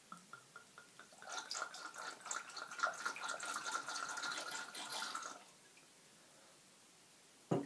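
Syrah wine poured through an aerator into a glass, a steady gurgling, trickling stream lasting several seconds before it stops, followed by quiet.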